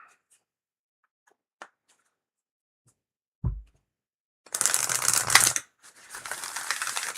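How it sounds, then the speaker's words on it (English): Tarot cards shuffled during a live card reading, giving two bursts of crisp papery riffling and fluttering about a second each, preceded by a low soft thump and faint taps, with no talk. "That was a lovely shuffle."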